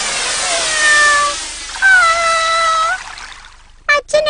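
Cartoon cat meowing in a Malayalam animated show, two drawn-out tonal meows followed by a short, sharp burst near the end, loud and clear with no talking over it.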